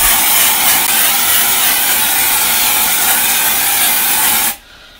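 A spray can of dry shampoo lets out one loud, close, continuous hiss for about four and a half seconds, then cuts off abruptly into quiet.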